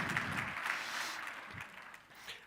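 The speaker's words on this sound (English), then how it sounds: "I think we can even give him a round of applause in his absence in the meantime." Conference audience applauding at a South African mining industry gathering, a dense wash of many hands clapping at steady volume for a couple of seconds, fading slightly toward the end.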